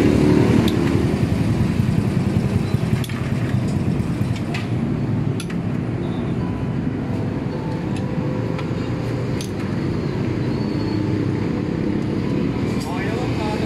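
A Honda Click 125 scooter engine idles after an overhaul and crankshaft replacement, a steady low rumble close by with faint workshop clicks; someone talks intermittently over it.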